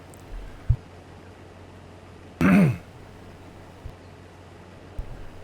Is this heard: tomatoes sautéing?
no